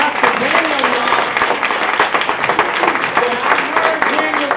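A crowd at a community launch challenge event claps and cheers continuously, loud and dense, while voices talk and call out over the applause.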